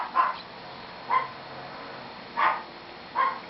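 An Imperial Shih Tzu mother dog gives four short, high barks spaced about a second apart, moderately close and with no talk over them.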